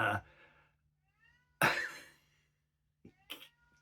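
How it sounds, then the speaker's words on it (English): A cat cries indoors in a few short, separate meows with quiet gaps between them, fairly close and moderately loud. "Cat is just crying."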